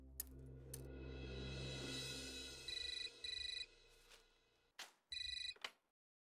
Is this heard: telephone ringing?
yes